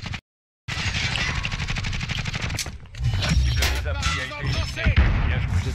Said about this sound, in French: Au-dessus de moi, ça tire aussi.